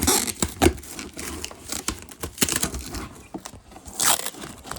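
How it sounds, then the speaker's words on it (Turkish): Crinkling and tearing of tape and cardboard, with sharp rips and rustles at close range in irregular bursts. "Şuradan bu kutuyu açsam."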